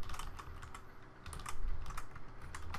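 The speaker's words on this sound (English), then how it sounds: "all you got to do is type this." Soft, close keystrokes tap on a computer keyboard in quick irregular bursts while a Java statement is typed, faint and with no talking.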